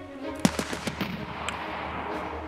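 Short burst of rapid machine gun fire in the video game Escape from Tarkov, a few sharp cracks followed by low rumbling background noise.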